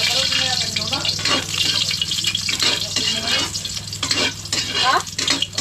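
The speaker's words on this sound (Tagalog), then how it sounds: "Gigisa na tayo." Food sautéing in a pan, stirred and sizzling steadily with scraping and clattering throughout, fairly loud and close, with faint voices in the background.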